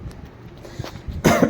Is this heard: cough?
yes